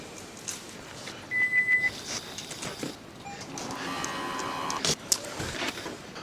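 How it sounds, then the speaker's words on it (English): A 2016-2022 Toyota Prius is switched into ready mode, giving a short, clear electronic beep followed by faint clicks and a soft electrical whir in a quiet garage-like space. "So here I'm going to ready on the vehicle."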